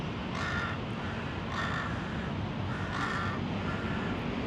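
A crow perched in a tree in Bangkok caws repeatedly, four evenly spaced harsh calls over steady loud outdoor background noise.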